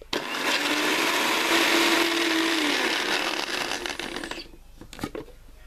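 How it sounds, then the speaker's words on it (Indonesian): An electric blender grinds herbal ingredients with about 50 ml of water, a loud continuous whirring roar that runs for several seconds, then cuts off and leaves a few small knocks and clatters. "Kemudian semua bahan ini kita blender hingga halus"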